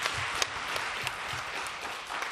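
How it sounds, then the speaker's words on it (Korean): Congregation applause welcoming newcomers at a Korean church's Sunday worship service in Sydney, a steady, dense wash of many hands clapping throughout, moderately loud and fairly even. "박수로 우리 환영했으면 좋겠습니다"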